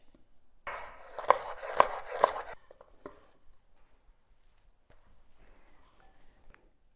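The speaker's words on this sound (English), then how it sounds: "I'm just going to chop all of my vegetables in sort of small bite-sized pieces" Vegetables are chopped into small bite-sized pieces for a Thai coconut green curry. Three crisp knife strikes land on a board in quick succession over a brief rustle, then the kitchen goes quiet.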